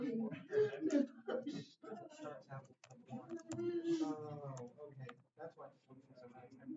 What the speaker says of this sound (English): I got to finish typing just a sec